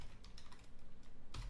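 Quick keystrokes on a computer keyboard as a layer name is entered in Maya 3D modelling software, a short close burst of clicky taps ending in a firmer key press, with no voices.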